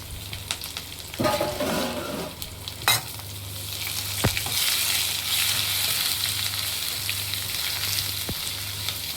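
A single onion frying in oil on a low flame while hair oil is being made, giving a steady, soft sizzle throughout with a few sharper stirring scrapes near the start and no voices.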